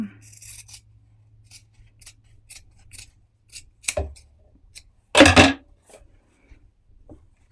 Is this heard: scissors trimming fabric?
yes